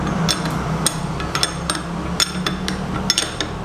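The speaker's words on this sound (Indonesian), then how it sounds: "Kunci 19 kita kencengin." Repeated light metallic clinks and ratcheting taps of a size 19 ring wrench turning a bolt on a bearing separator set, close and irregular against a steady low background hum.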